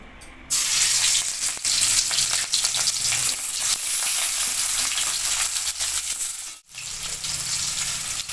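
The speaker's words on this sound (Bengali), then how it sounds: "এবার গরম হয়ে গেছে, কড়াইতে মাছ দিয়ে দিচ্ছি।" Fish drops into a hot kadai and erupts into a loud, close, continuous frying sizzle that holds steady, dipping once briefly near the end.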